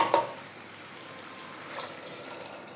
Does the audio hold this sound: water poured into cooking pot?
yes